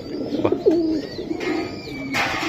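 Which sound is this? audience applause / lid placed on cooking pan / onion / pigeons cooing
pigeons cooing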